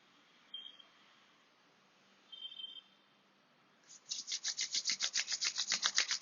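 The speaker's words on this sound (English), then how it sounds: "Rub your palms together." Palms rubbed briskly together during a simple yoga flow, a quick rhythmic series of close, soft rasping strokes after a few faint scuffs in a quiet room.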